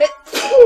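A single loud, close human sneeze, sharp and breathy, lasting under a second.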